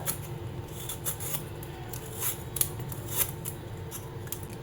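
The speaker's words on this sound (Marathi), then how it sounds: "आता आपण ही पूर्ण अशी कैरी सोलून घेऊया" A whole raw mango is peeled with a blade for a Konkani kadhi. Close, quiet, repeated scraping and snipping strokes with a few sharper clicks, and no voices.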